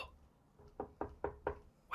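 Frantic tapping on a closed door: a quick run of four or five soft, muffled knocks in an uneven, hurried rhythm, close by and fairly quiet, with no voices.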